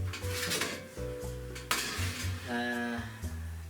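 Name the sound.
bacon frying and being flipped in a pan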